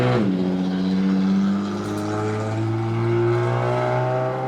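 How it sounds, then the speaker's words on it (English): A car engine revs loudly on a street, holding a steady, strong drone with harmonics that climb slowly as it accelerates, close and continuous with no talk. "If you were one of those people who drive down the street with a car doing all that, that's not cute."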